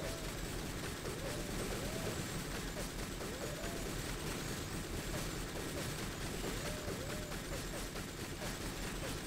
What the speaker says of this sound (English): I couldn't hear you over the sound of the gunfire